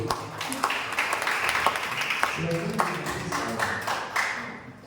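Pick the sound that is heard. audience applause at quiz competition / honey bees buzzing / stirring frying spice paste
audience applause at quiz competition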